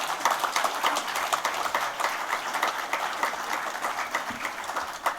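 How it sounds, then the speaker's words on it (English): An audience at a book series launch event applauds, a dense, continuous clatter of many hands held at a steady level throughout. "So I would request everyone to please give a huge round of applause."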